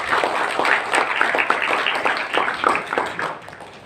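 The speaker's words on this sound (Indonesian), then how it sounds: "Tepuk tangan untuk Dr. Atabik Lutfi LCMA." An audience at a graduation talk show event applauds steadily with many hands, a dense crackling clatter that holds for a few seconds and then fades slightly at the end.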